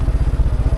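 A motorcycle ridden in third gear, its engine giving a steady, rapid low pulsing throb close by, with no talking.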